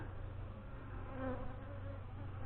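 A steady, low, dense buzzing of many honey bees inside an open hive, continuous and fairly faint.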